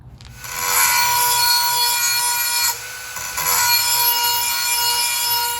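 Close, loud grinding of a lawnmower blade being sharpened freehand, a sustained high metallic whine with a brief dip midway before resuming, no speech.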